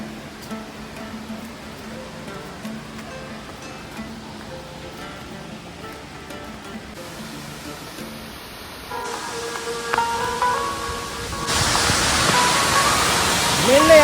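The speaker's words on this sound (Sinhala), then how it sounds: "මෙන්න යාළුවනේ පීස් ඇල්ල" Peessa waterfall in Uva Province, Sri Lanka, rushes with a steady roar that grows louder and fuller toward the end, with faint voices in the background.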